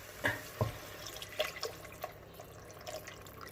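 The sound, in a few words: stock poured into a pan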